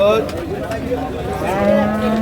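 Cattle moo continuously and loudly at a rural cattle market, with several overlapping low calls close by and faint voices in the background.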